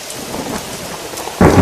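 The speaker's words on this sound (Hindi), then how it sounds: "तेज हवाएं चलीं और फिर जोरदार बारिश होने लगी।" Steady wash of heavy rain with a rushing, windy texture, swelling into a louder, closer burst of downpour at the end.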